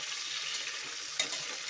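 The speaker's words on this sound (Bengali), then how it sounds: "পেঁয়াজগুলোকে আমরা ভালো করে কষিয়ে ভেজে নেব" Chopped onions frying in a pan, a soft steady sizzle with faint stirring scrapes and one brief clink, heard close and quiet with no voices.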